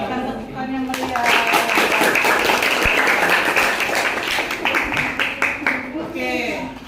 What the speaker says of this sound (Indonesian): Berikan tepukan yang meriah.